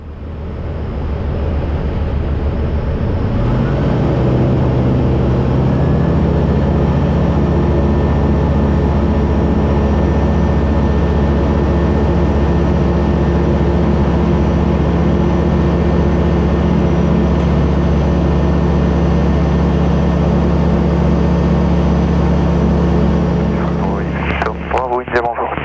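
Light aircraft engine throttling up for a go-around, a steady loud drone that rises in pitch and then holds, close and continuous, with a brief clatter at the end.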